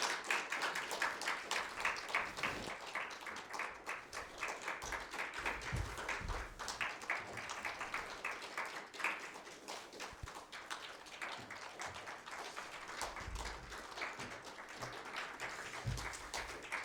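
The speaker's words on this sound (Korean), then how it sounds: "박수를 세게 한번 쳐줘요" A church congregation claps hard in a dense, sustained burst of handclaps that runs steadily for the whole stretch, with a few voices mixing in faintly underneath.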